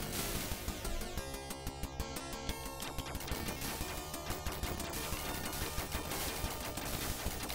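Rapid, continuous arcade gunfire from Twin Cobra, a shoot-'em-up game, rattles as dense repeated shots over loud game music and effects, steady and close throughout.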